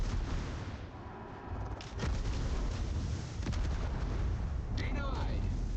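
Naval gunfire in the World of Warships video game, heavy booming blasts and rumbling explosions over a dense, low game soundscape, with a couple of sharper shots standing out and voices talking underneath.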